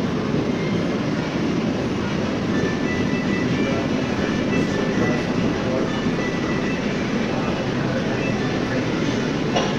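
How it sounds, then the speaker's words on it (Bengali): An AC local train pulls out of Sodepur station on the Ranaghat–Sealdah line, a steady loud rumble and rolling rail noise filling the whole stretch, with a voice speaking faintly underneath. "আমাদের ট্রেনটা ছেড়ে দিল।"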